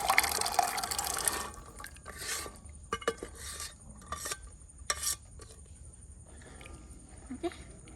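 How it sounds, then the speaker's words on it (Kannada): Chickpeas go into a thick spice masala together with their water, giving quiet splashes and wet sloshing in bursts, with a few faint pot knocks between them. "ನೀರಿನ ಜೊತೆಗೇನೆ ಕಡಲೆಯನ್ನು ಹಾಕಿಕೊಳ್ಳಿ"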